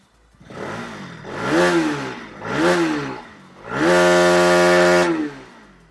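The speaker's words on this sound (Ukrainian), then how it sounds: "з приводу вихлопа і обертів і роботи двигуна" A Bajaj Pulsar motorcycle engine is revved three times, two short climbing blips followed by a longer held high rev, its exhaust loud and close with no talking.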